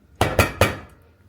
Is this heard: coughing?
no